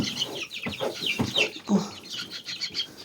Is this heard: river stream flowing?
no